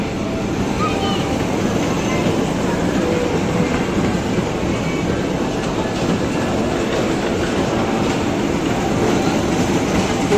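A toy train ride inside a shopping mall, with a loud, steady rumble and clatter of moving wheels throughout and people talking nearby.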